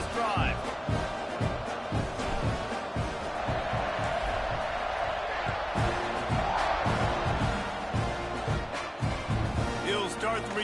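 Stadium crowd in College Football 26 roaring and cheering steadily after a scoring drive, a dense wall of noise with repeated thumping beats under a commentator's voice.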